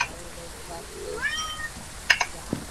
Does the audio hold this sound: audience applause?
no